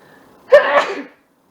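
A single loud, close sneeze, short and sharp, with silence before and after.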